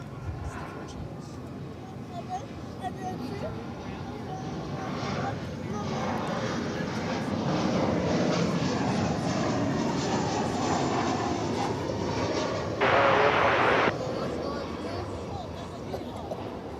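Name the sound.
airplane flying at DFW Airport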